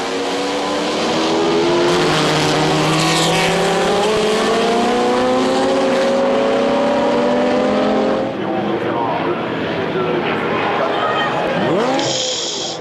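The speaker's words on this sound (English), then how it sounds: "you can always marvel at the GT cars, like that glorious 275 GTB of Jan Giesen." Ferrari 275 GTB GT car racing at the Le Mans Classic, engine note rising and shifting loudly as it passes, with a commentator's voice over the engine.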